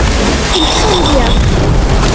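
A bomb explodes in the Harry Potter: Magic Awakened video game, a deep boom and rumble that carries through the clip, mixed with game effects and voices talking.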